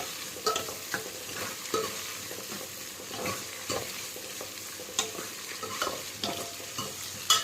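Garlic cloves sauté in a pan for a Tamil tamarind curry of okra, with onions already fried golden, a soft steady sizzle broken by repeated scraping stirs of a spoon, close by and with no talk.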